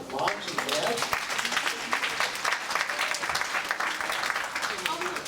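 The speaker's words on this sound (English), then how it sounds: "a round of applause for moms and dads?" Audience applause for moms and dads at a school event: dense, steady clapping from a crowd that keeps going at even strength throughout, without fading.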